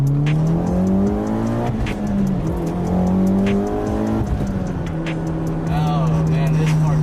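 A Mitsubishi EVO X all-wheel-drive car accelerates through its gears with a loud, steady engine drone that drops at each shift, heard from inside the cabin with someone talking over it.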